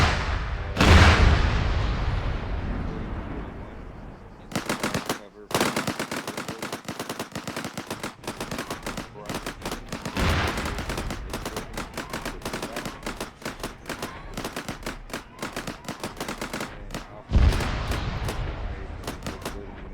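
Gunfire in a military simulation game: sharp opening blasts followed by long stretches of rapid, loud automatic bursts, broken by short pauses and another heavy blast near the end.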